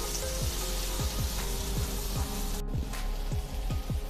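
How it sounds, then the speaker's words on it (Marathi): Ground masala paste sautéing in a pan, a dense close sizzle running throughout with a steady rhythm of scraping spatula strokes across the surface. "तर इथे मी वाटण 1 ते 2 मिनिटभर परतून घेतलेलं आहे"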